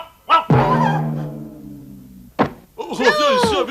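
A dog barks in a cartoon household scene: one sharp yelp, then a long drawn-out howling bark with strong harmonics, followed after a pause by a door-like thunk and a burst of excited yips and vocal noise.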